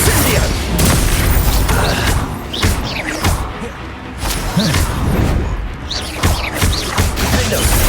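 Casting Incendio and other fire spells during combat in Hogwarts Legacy produces bursts of whooshing flame, heavy crashes and booms. The blasts land in uneven clusters throughout, loud and close, with a voice mixed in.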